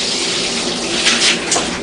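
Plain tap water runs and splashes while acid solution is rinsed off a brass instrument during a chemical flush, a loud, steady, close rush with a few brighter spatters.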